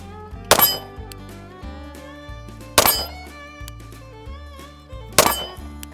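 Three sharp shots from an Arex Delta Gen 2 9mm pistol, evenly spaced about two seconds apart, each a loud crack over steady background music.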